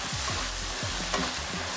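Tomato paste added to frying masala in a pan for a spicy chicken roast, a steady sizzle with rhythmic scraping stir strokes, close and continuous, no talking.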